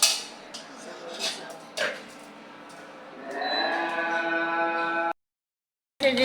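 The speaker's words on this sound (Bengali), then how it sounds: "ঢাকনা দিয়ে ঢেকে দেব।" A metal lid is set over a cooking pot of frying pangas fish in a village kitchen: a few sharp clanks, then a sustained ringing metallic resonance before the sound cuts off abruptly.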